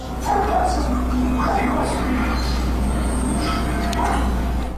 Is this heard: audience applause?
no